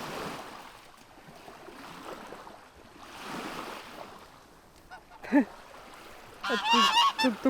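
Geese honk in a short burst near the end, after steady surf-like rushing, on Xigia beach, Zakynthos; no talk.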